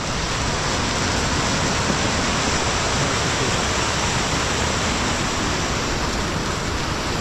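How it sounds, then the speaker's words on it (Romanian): Heavy rain pours steadily during a snow and ice race in Băiuț, Maramureș, a dense, loud, unbroken rush of water that fills the whole stretch with no pauses. "Plouă bine, nu-i bai."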